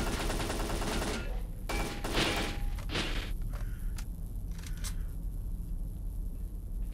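AK rifle fire in the shooter game S.T.A.L.K.E.R.: Call of Pripyat, a loud burst of sharp, rapid shots early on that tails off into scattered thuds and quieter ambience.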